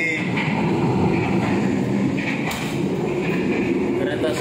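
Executive-class Sawunggalih passenger train travelling from Cirebon to Jakarta, heard from inside as a steady, loud rumble and rolling drone with faint rail clatter throughout.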